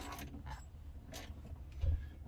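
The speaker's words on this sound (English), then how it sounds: "you're going to turn this until this bolt is loose" A 1/2 inch socket being turned on a bolt of a Tesla Model 3 under salvage rebuild, giving faint repeated mechanical clicks and creaks in a quiet workshop.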